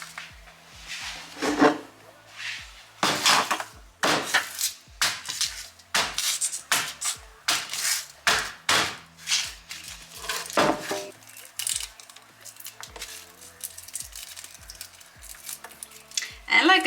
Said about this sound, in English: now it's time to start chopping